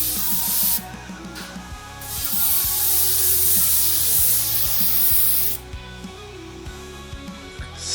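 Spray paint misted onto an Arrma Felony RC car shell in several loud, close hissing bursts, with short pauses between passes.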